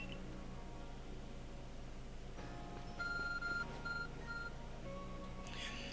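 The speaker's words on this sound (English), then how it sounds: "Your ARC phone is beeping." An ARC phone in the video game Pokémon Legends Arceus gives short electronic beeps and tones partway through, set over steady game background noise.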